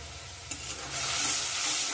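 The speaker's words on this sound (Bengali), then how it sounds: "ভালো করে কষিয়ে নিব।" A spiced masala paste with tomato and salt is stirred and sautéed in a pan for a vegetarian paneer curry: a steady close sizzle with scraping stir noises and a sharp clack near the start, the frying growing louder and denser toward the end.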